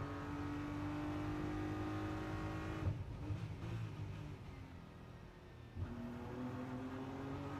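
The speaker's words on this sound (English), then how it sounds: "back on the loud pedal, speed building all the way down toward Fisherman's now" A GT race car powers out of the Melco hairpin at the Macau street circuit during FIA GT World Cup qualifying, its engine note rising steadily, dipping briefly mid-clip, then climbing again loud and close without any voices.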